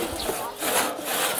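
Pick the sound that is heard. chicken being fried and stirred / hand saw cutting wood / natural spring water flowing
hand saw cutting wood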